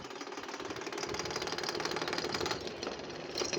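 A malfunctioning electric fan rattles and chatters in a rapid, uneven mechanical clatter that runs continuously and fairly close up, with no talking over it.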